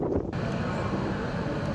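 Storm wind in Istanbul gusts across the microphone as a continuous low roaring buffet, loud and unbroken over the short clip, with no clear speech.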